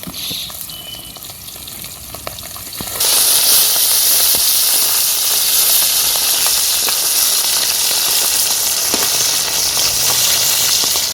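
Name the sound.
bata fish frying in hot oil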